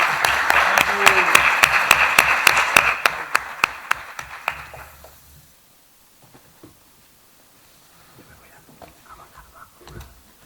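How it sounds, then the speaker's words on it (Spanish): Audience at an Urban Skills talk in Alcoi applauding the speaker Fasim, brisk clapping that tapers off over about five seconds into near silence, followed by faint voices and shuffling. "Un aplauso, por favor, a Fasim."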